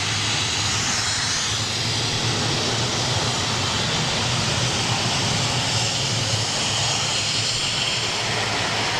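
Steady, loud roar of a big jet's Rolls-Royce engines beginning to spool up, a dense broadband rumble holding nearly level throughout with no voices.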